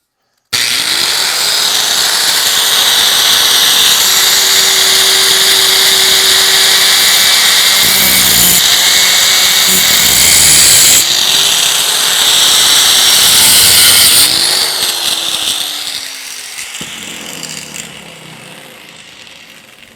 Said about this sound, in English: We're going to use the angle grinder and See if we can't cut this thing off.